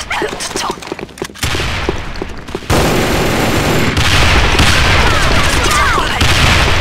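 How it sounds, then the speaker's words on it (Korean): Gunfire and a grenade blast in the shooter game Sudden Attack: a loud, continuous barrage of shots and booms that jumps louder partway through, with voice lines mixed in. "수류탄 투척!"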